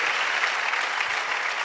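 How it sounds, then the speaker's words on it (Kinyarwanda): A congregation at a church testimony service gives a round of applause to God, a brief, even wash of clapping at moderate distance with no voices over it. "Another big round of applause to God."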